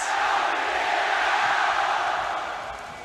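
A large arena crowd at the Rift Rivals esports event roars and cheers steadily, a broad wash of voices that fades slightly toward the end.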